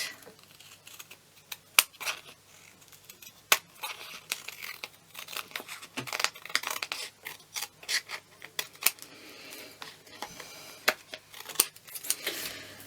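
Scissors snipping down the side of a piece of card for a stamped card holder, a run of sharp, close cuts and crisp clicks spread irregularly through the stretch with light paper rustling between them.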